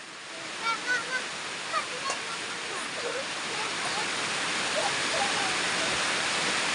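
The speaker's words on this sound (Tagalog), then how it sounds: "Hinay ng ulan." Soft, steady hiss of rain falling, with a few faint chirping calls in the first couple of seconds; continuous and gentle, no talking.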